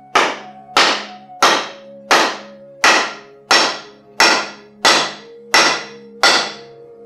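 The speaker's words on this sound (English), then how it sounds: "I'm just gonna hit it a few more times, see if I can get it all the way down onto that shoulder" Double bit axe head being hammered down onto its wooden handle during rehandling: ten sharp, evenly spaced metallic blows, each ringing briefly, close and loud with no talk.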